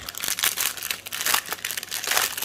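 Plastic packet of diamond painting drills being torn open and handled, a run of close, crisp crinkling and rustling bursts in uneven rhythm, fairly quiet, with no talking.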